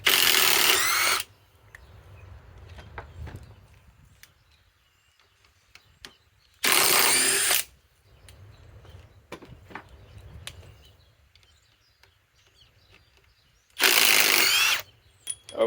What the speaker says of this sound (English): MENARDS Master Force Boost impact driver with halo light.